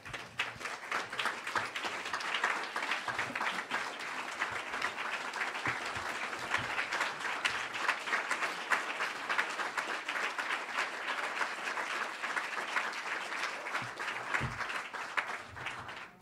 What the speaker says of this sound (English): give yourselves a big hand of applause